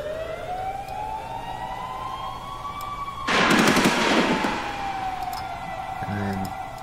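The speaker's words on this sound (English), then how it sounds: "I have these siren samples and these gun samples" Siren and gunshot sound samples laid into a music track: a wailing siren tone rises and falls throughout, joined midway by a burst of rapid gunfire, with a few sharp shots near the end.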